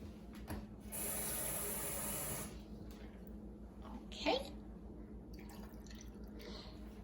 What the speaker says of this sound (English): I'm going to add a scant half cup of water.